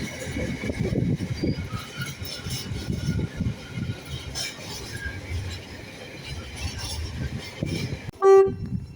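A Thameslink Class 700 train, unit 700 018, gives a short, loud two-tone horn blast near the end, following steady rumbling train and station noise.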